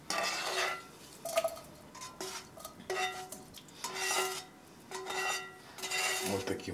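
Beef and veal being loaded into a metal kazan cooking pot, with repeated clinks, scrapes and clatters of utensil against pot in short bursts separated by brief pauses.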